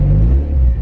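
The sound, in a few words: lifted Mazda MX5 engine revving with new exhaust tip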